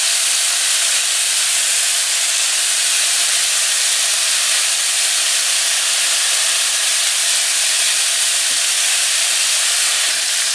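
Beef seekh kebabs sizzle loudly in a pan over medium heat, a dense, unbroken hiss that stays steady throughout, with no voices.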